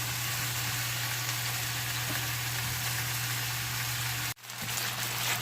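Potatoes browning in oil in a pan give a steady, dense sizzle that holds at an even level, broken once by a brief dropout before the frying noise resumes.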